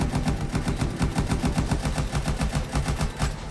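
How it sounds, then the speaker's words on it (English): Rapid automatic gunfire in the video game Anthem, a dense, steady stream of loud shots in a fast even rhythm, close and continuous, with no talk over it. "I'm just standing here shooting at him."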